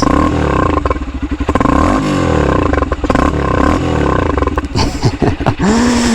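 A Honda XR150L motorcycle engine idles with a rough, rumbling clatter, then revs up in several quick throttle blips near the end, loud and close.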